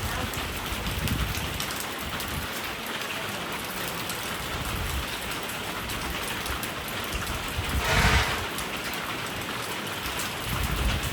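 Heavy rainy-season rain pours steadily on surfaces around a flooded Thai village home, a dense, even hiss throughout with a slightly louder gust around the middle.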